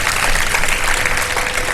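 Studio audience applauding on a Pakistani iftar television show, a dense, steady burst of clapping that stays loud and even throughout, with no voices over it.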